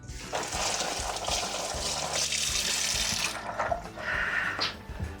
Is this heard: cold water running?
yes